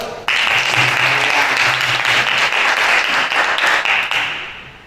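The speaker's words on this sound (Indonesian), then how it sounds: "Sekali lagi aplaus." Audience applause in a school gathering of students, dense sustained clapping from many hands, loud and close, swelling at once and fading slightly toward the end.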